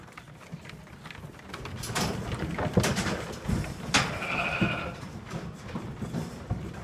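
Ile-de-France lambs and ewes bleat in a pen after weaning, several overlapping calls at moderate distance, with the loudest sustained bleats near the middle over a steady background of shuffling and barn noise.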